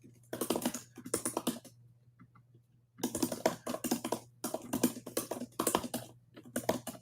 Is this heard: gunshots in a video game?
no